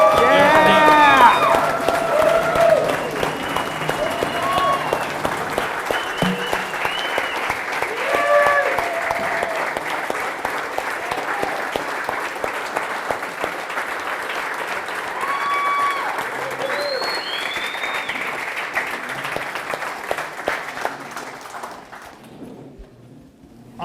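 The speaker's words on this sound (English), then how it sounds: "You guys think we should see how loud we can get and give him a big round of applause for Dean?" A crowd at a BMX hall of fame celebration bursts into sustained applause with cheering and whistles, loud and dense for about twenty seconds before tapering off at the end.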